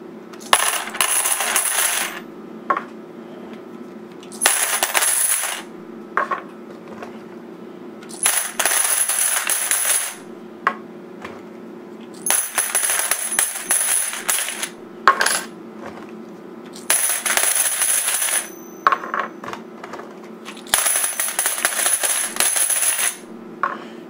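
A pile of 90% silver quarters, $100 face value, pours and clatters in repeated bursts of bright metallic jingling, each a couple of seconds long with short pauses between, close and loud.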